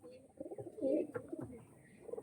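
Pigeons of a rare old bloodline cooing softly, a few low throaty coos with faint rustling, fairly quiet and close, with no talk.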